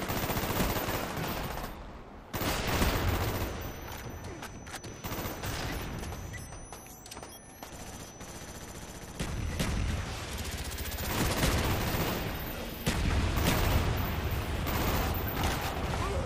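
Sustained automatic gunfire from Call of Duty: Black Ops, including an AUG rifle and a chopper, with dense rattling bursts and blasts filling the whole stretch and brief lulls between volleys.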